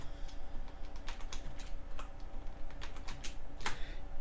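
Quick, fairly close keystrokes on a computer keyboard come in irregular bursts, ending in one sharper press of the enter key.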